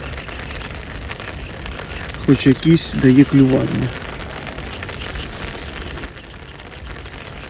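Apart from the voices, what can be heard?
rain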